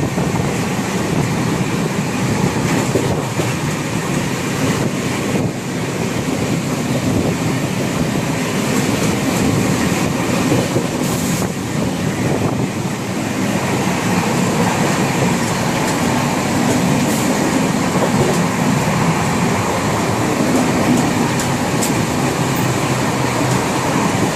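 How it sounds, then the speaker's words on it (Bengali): Steady, loud rumble of a passenger train running at about 100 on the Pune to Kolkata route, continuous rattling and clatter with a broad roar throughout, no voices. "বুঝতেই তো পারছেন যে আমার ট্রেন কিন্তু 100 স্পিড"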